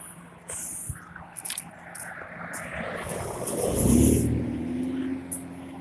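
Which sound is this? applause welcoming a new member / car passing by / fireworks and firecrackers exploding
car passing by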